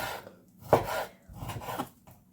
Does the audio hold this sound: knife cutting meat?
yes